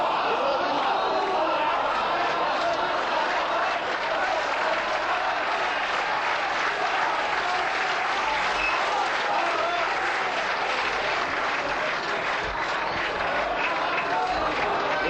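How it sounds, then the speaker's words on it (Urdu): A poetry recital audience gives sustained, dense applause for Meiraj Faizabadi, many hands clapping loudly and evenly without pause for the whole stretch. "تالیاں بجا رہے ہیں"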